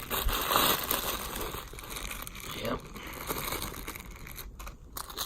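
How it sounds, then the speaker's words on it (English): Crinkling plastic rustles continuously, close and fairly loud, with a few sharper crackles; a voice briefly speaks. "Looks like it's in a plastic bag."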